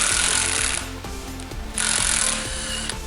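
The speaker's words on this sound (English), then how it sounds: "one nut that we need to remove with a 19mm socket" A power tool with a 19mm socket spins a nut off a Fiat 500 front strut, hammering in loud rapid bursts with a brief easing in the middle, close up and alone.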